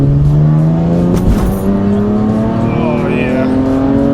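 A tuned BMW 335i with a custom MHD tune accelerates hard in third gear from about 2,500 to 7,000 RPM. Loud, close engine noise rises steadily in pitch for several seconds, heard continuously from inside the car.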